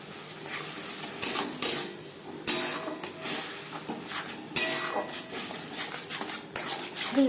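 Ginger paste, green chili paste and tomato paste stirred in a pan for chicken ghugni, with repeated metal spoon scrapes and knocks against the pan at an uneven rhythm, close and moderately quiet.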